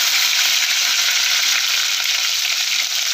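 Small shallots frying in oil with mustard seeds give a loud, unbroken, close sizzle with no talking.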